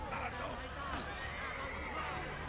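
A horse in the video game Assassin's Creed Brotherhood neighs loudly with hoof clip-clops, heard under excited talking.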